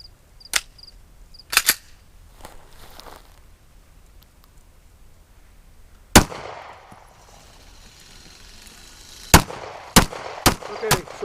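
Pistol shots on an 11-yard zip line target drill: sharp, loud reports, a single early shot, a close pair, then a quick string of five near the end, with quiet gaps in between.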